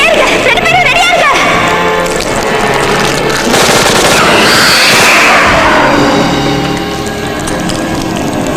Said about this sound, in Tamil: அது கண்ணை பார்த்து சுடுங்க.